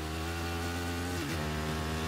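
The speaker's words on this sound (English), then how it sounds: "I'm gonna go chase that motorbike that's going into our base." A motorbike engine in the video game Battlefield 3 drones steadily at a constant pitch, then dips briefly before holding steady again, loud and close with no voices.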